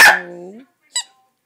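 A close dog bark with a drawn-out whining tail, then a second short, high yelp after a pause.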